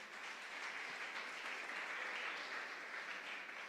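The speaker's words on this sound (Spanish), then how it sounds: "denle un aplauso al Señor." Faint, distant applause from a church congregation, a soft continuous patter of many hands heard from far back.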